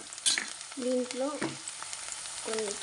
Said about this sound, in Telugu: కొంచెం పసుపు, పసుపు కూడా పచ్చివాసన అంతా పోయేదాకా ఇలా వేయించుకోవాలి.